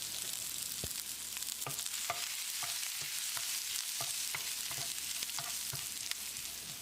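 Potatoes sizzle steadily in a hot pan while a utensil scrapes and stirs them in repeated strokes, a soft tap marking each pass.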